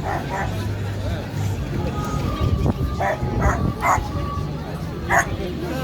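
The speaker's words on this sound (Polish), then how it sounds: "Pies daje głos" A dog barks several times amid the crowd babble of a busy Friday-evening Christmas market in Wrocław's Old Town square, its sharp yelps rising clearly over the steady murmur of people.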